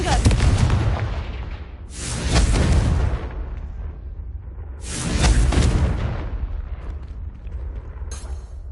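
Confringo blasting spells explode in the video game Hogwarts Legacy, with two loud, rumbling blasts a few seconds apart, each swelling and then fading, and a sharper burst starting near the end.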